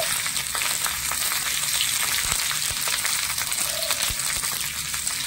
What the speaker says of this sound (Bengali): এবারে ফোড়নে দিয়ে দিচ্ছি কালো জিরে অল্প একটু, 2টো শুকনো লঙ্কা, 1টা তেজপাতা, আর কুচিয়ে রাখা পেঁয়াজ দিয়ে দিচ্ছি